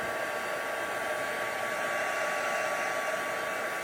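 A heat tool blows continuously over embossed white acrylic on a paperback book page, giving a steady hair-dryer-like whir with a faint high tonal whine and no speech.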